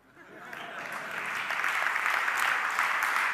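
Audience applause at an international launch event for ARCHICAD 20 swells from quiet within the first second into sustained, dense clapping from a large crowd that holds steady to the end.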